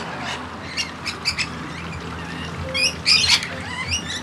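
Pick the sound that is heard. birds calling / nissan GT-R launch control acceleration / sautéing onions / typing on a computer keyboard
birds calling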